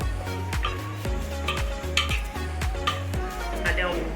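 A spoon stirs colorful red, yellow and green peppers in a pot of pasta sauce, with repeated scraping strokes and soft clinks over a steady sizzle from the heat below.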